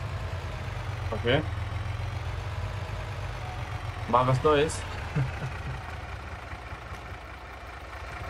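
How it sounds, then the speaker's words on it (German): A vehicle engine idles in the farming game Farming Simulator 22 as a steady low rumbling drone, with two people talking in German over it. "Mach halt Motor aus."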